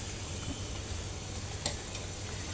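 Liver-stuffed puri fries in oil, a faint, even sizzle heard close with one small sharp click partway through.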